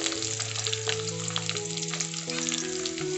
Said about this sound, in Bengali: আবার খুব ভালোভাবে মিক্স করে ফ্রাই করে নিতে হবে